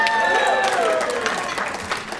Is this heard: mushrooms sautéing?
no